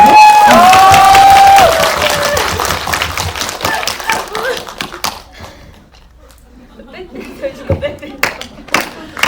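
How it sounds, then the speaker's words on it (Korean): A crowd claps and cheers at an indie cinema screening Q&A, the applause loud at first and then thinning out, with a voice briefly over it. "그럼 우리 박수 치는 거예요?"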